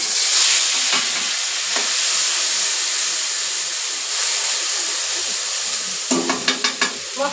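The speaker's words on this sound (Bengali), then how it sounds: "এবার আমি বেটে রাখা মশলাগুলো দিয়ে দেবো।" Ground spice paste hits a hot pan of already-fried eggs, a steady close hiss of sizzling frying under stirring scrapes, with several sharper spoon knocks near the end.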